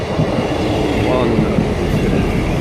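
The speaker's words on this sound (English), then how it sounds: "there should be 3 sets of 159s all coupled together to give us our 9-car train" A nine-car train made of three coupled Class 159 diesel units rushes past close by at Hilsea, a loud continuous roar with rumbling wheels and clickety-clack from the rails.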